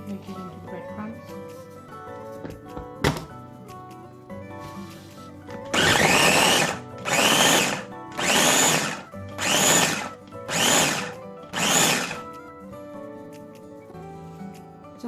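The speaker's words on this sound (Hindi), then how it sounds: "हम bread को लेंगे और उसे ग्राइंडर में डाल के थोड़ा सा ग्राइंड करेंगे" An electric grinder pulverises bread into breadcrumbs, running in six loud, evenly spaced bursts of about a second each, with a short sharp knock before the bursts and quiet background otherwise.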